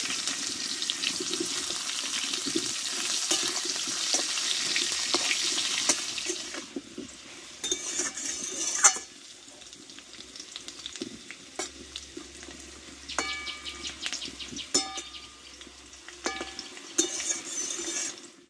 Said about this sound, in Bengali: এবার আলুগুলোকে অল্প আছে একটু ধীরে ধীরে ভালোভাবে আমি কষে নেব।